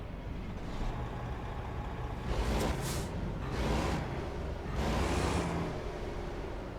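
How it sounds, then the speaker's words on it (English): A Kenworth W900 truck engine in American Truck Simulator, hauling a limestone hopper trailer, drones low and steady with rising airy swells as the revs climb, no talking. "Sounds pretty good, that W900 engine."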